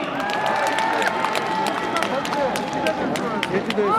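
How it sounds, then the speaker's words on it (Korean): Crowd applause and cheering at an outdoor presidential campaign rally in Daejeon, a steady dense wash of clapping with voices and a background tone running throughout. "박수 부탁드리겠습니다."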